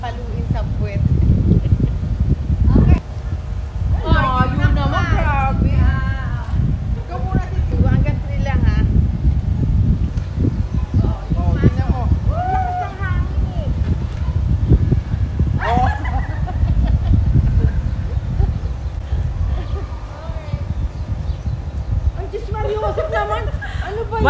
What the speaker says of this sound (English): Malakas yung hangin, windy siya, windy.